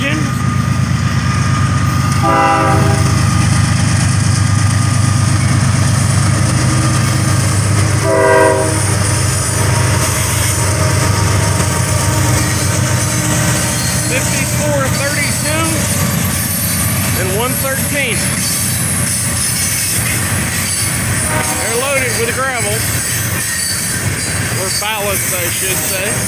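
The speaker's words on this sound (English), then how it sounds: "We got a freight coming down through the valley." A westbound freight train with a couple of engines rumbles past through a valley, continuous heavy clattering, its horn sounding a couple of times; a person's voice is heard over the din.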